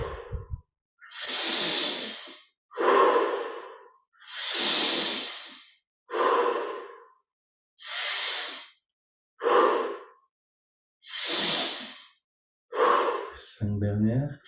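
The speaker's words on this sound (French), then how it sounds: "Pour les 10 prochaines respirations, essayons de prendre encore plus d'air à chaque fois." Deep, drawn-out breaths during a guided meditation, about eight long inhale-exhale cycles at an even, slow rhythm, heard close and fairly loud with brief pauses between them and no talk.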